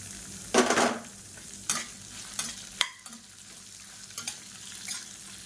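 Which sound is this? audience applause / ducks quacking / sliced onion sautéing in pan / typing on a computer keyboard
sliced onion sautéing in pan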